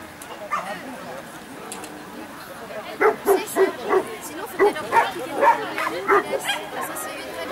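Several dogs bark and yip close by in a rapid, excited run of sharp calls that starts partway through and goes on to the end, over a background of people chattering.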